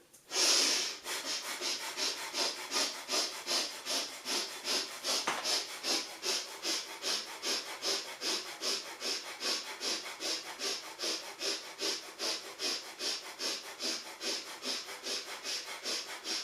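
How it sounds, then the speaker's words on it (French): Breath of fire, the rapid kundalini yoga breathing, pumps as a steady stream of quick, forceful nasal exhales, close and even in rhythm throughout, with no talking. "vous allez pratiquer la respiration du feu"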